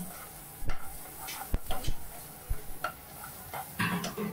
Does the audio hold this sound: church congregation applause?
no